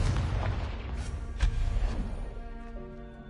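A Confringo fire spell bursts in Hogwarts Legacy, a booming blast peaking midway through a dense rumble of game effects and fading into a ringing tail.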